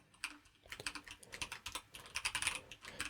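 Quick, close keystrokes on a computer keyboard form a steady run of soft clicky taps, typing into a code editor with no talking.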